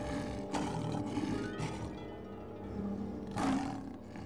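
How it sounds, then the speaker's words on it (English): A cartoon tiger roars loudly in a few long, growling bursts with short gaps between them, close and prominent, with no talking over it. "It's a tiger!"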